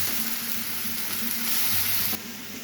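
Water poured into a pan of sizzling masala with ginger garlic paste, a steady loud frying hiss with a sudden shift near the end as the liquid hits the hot oil.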